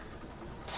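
Soft, close rasp of a zipper being drawn along the zip front of a small fabric accessory bag, quiet and steady, rising into a brighter, louder pull at the end.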